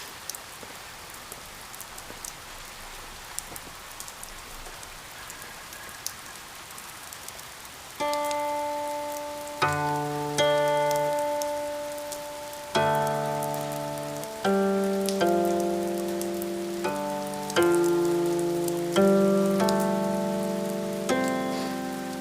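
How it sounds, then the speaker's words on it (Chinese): Rain falls as a light, scattered patter of drops on its own for several seconds. Then plucked string music comes in and largely covers it. "下雨了，"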